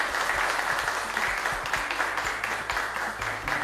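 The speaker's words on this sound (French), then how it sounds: "Merci d'applaudir" Studio audience applauding on a French TV general-knowledge quiz show, a steady dense wash of clapping sustained throughout without pause.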